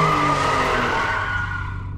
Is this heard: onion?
no